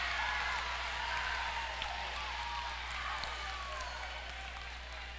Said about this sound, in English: Now the AP crowd really getting into it.